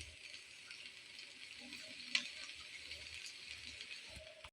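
Rice for a North Bengal-style fish pulao sizzles and fries in a pan, a soft continuous crackle with a brief clink of a utensil, heard faintly without talk.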